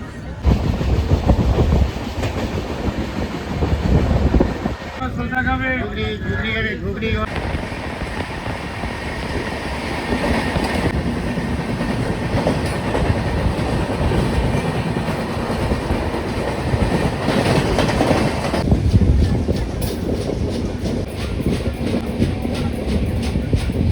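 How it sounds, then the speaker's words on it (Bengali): A passenger train rolls slowly along the tracks after leaving the station, with a loud, continuous rumble and a rhythmic clickety-clack that stays close throughout, joined by a brief squealing whine partway through. "আমাদের ট্রেন ছেড়ে দিয়েছে এখন আমরা আস্তে আস্তে যাচ্ছি"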